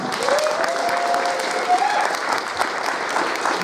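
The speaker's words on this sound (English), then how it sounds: "let's have a round of applause for that" Audience applause after a talk at a retro gaming expo in Blackpool, a short burst of steady clapping from a modest crowd, fairly close, with a faint tone running underneath.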